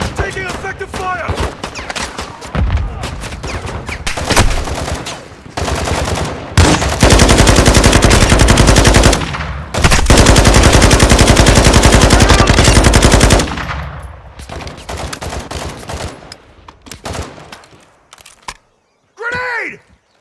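Gunfire in a PS5 shooter video game, loud rapid machine-gun bursts and dense volleys that alternate with short single shots and pauses, and a shouted voice comes in near the end.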